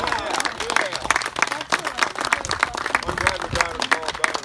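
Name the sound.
applause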